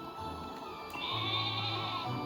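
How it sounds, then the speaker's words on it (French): A sheep Pokémon bleats in the game Pokémon Sword, a drawn-out tonal bleat that swells midway and holds steady, heard alone over faint game background. "Mouton."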